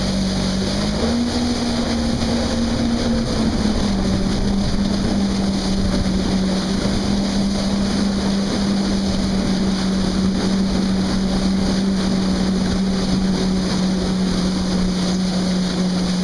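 A jet ski engine drones loudly and steadily on the Šibenik channel, its pitch lifting briefly early on, with wind and water noise mixed in throughout.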